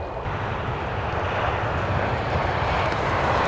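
An MGI Zip Navigator AT electric golf push cart passes at top speed outdoors on a golf course, a broad rushing whir that swells steadily louder as it approaches.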